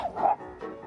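A dog on a beach lets out two short, sharp barks, the first louder and the second fainter, close by.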